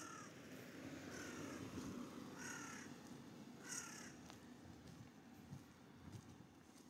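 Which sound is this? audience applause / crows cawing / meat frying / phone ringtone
crows cawing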